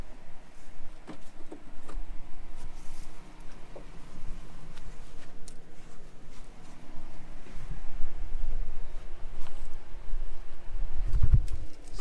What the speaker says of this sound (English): Sorry, birds.